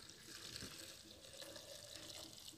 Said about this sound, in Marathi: आता मी त्यात गढूळ पाणी टाकत आहे